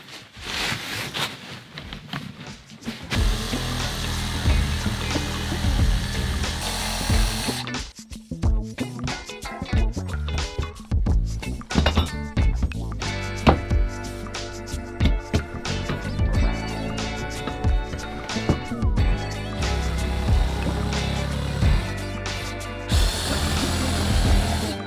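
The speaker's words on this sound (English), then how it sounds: "And I'm gonna need the Sawzall back." A Sawzall reciprocating saw cuts an opening for a waste line, loud, close buzzing in several bursts with short pauses between them.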